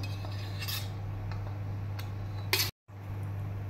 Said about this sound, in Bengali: এবার ফুলকপি আর আলু যেটা ভেজে রেখেছি ওটা এর মধ্যে দিয়ে দেব